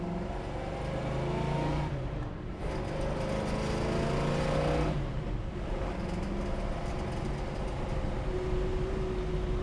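A 1966 Chevrolet Chevelle SS pulls away under steady acceleration, its engine note rising and shifting through the gears, loud and close from inside the car for nearly ten seconds with road and wind noise beneath.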